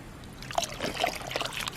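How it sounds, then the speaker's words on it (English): A bucket of seaweed water tipped out in a garden, heard as a short trickle and slosh of liquid with scattered splashy bursts, close and fairly quiet, no talking. "I'm just going to dump the bucket out."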